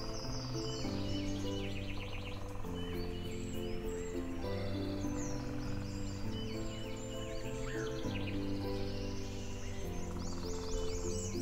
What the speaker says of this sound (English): Listen to the melodious songs of birds and take a look around.